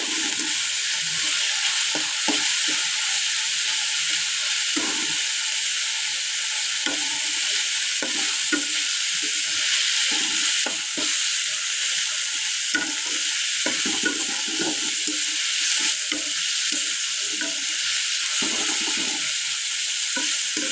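Food frying on low heat is stirred steadily in a pan until it browns, giving a continuous loud sizzle with repeated scraping strokes and no talking.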